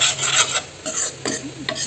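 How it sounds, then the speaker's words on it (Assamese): Wheat flour being stirred in ghee in a pan for halwa, a close scraping, rasping stir repeated in quick strokes with a soft sizzle underneath. "মইতো ঘিউ দি ভালকৈ ভাজি লৈছোঁ"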